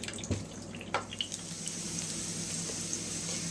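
Green pepper halves sautéing in a pan, a soft steady sizzle with scattered small pops and crackles, faint and close.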